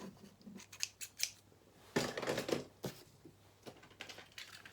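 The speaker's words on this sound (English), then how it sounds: "just cut a length of the twine" Scissors snip through a length of craft twine in several quick, close cuts, crisp and fairly quiet, with short pauses between the snips and no voices.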